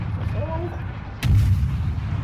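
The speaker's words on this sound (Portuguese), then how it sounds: "Opa, tô tomando tiro." Enemy warship gunfire in World of Warships strikes the player's ship, arriving as a single heavy, booming impact midway through over a low engine rumble.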